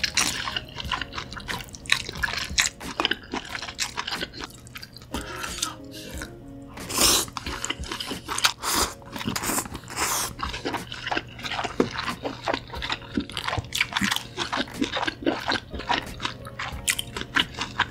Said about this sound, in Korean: 진짜장은 요 스테이크랑 같이 먹을게요.